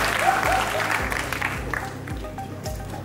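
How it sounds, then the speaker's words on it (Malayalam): Audience applause at a film's 55th-day celebration event, a dense burst of clapping that sustains loudly and evenly for a few seconds, with faint crowd murmur underneath. "എനിക്ക് നല്ലൊരു കൈയടി തരൂ."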